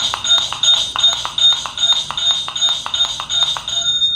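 Rapid chiming phone notifications for incoming Shopify store orders ring over and over in quick succession, bright, tinny and close, forming a dense repeating pattern.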